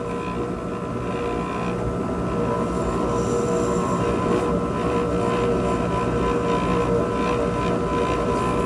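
A dental burr trims a cast, giving a steady high whine with broadband grinding noise, loud and continuous throughout without speech.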